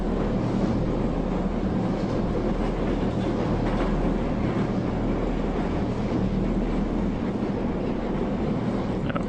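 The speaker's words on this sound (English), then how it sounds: "Probably wouldn't want to since the train's still moving." A moving train in a video game rumbles steadily with a low, continuous clatter and faint wind noise, loud and unbroken for the whole stretch.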